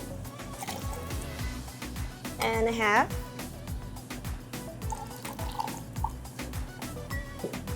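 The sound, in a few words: pouring pineapple juice and coconut water into a shaker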